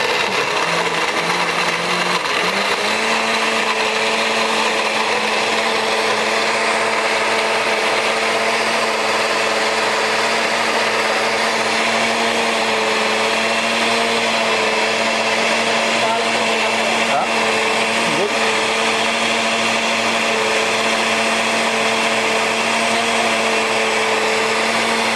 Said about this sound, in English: So basically, those are the main ingredients, and then let's blend it.